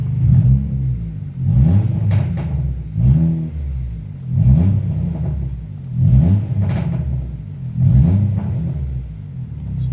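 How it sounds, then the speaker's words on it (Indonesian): A hatchback car engine with a loud racing exhaust is revved repeatedly, about six deep, throaty blips rising and falling in a steady rhythm, close by. "dikasih knalpot racing, suaranya mantap. Kita coba gas ya"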